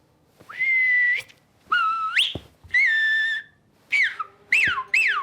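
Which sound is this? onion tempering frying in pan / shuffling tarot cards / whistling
whistling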